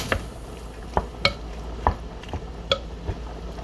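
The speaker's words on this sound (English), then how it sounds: "now we're just going to stir this up" Cold tricolor noodle salad being stirred in a bowl, a series of separate clinks and soft squishy scrapes spaced about half a second apart, close and fairly quiet with no talking.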